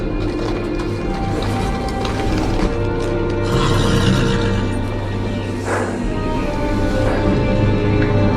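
A horse in a Game of Thrones video game, arriving at the gate of the Wall, neighs loudly over steady clopping hooves and background game ambience.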